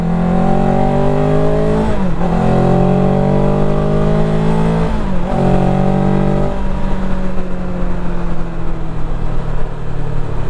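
A MASH GT 750 motorcycle engine revs and accelerates loudly up close, pitch climbing twice with gear shifts, then settling into a steady drone.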